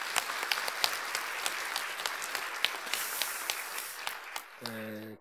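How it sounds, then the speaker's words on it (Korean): Church congregation at a Bible panorama lecture breaks into applause, a full, sustained round of many hands clapping with sharp individual claps standing out, ending as a voice begins speaking. "박수하겠습니다."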